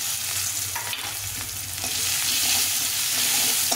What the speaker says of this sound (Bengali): ভালো করে একটু ভেজে নিতে হবে পেঁয়াজটাকে